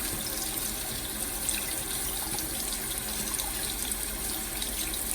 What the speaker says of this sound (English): So that's gonna be a quick rinse out right there.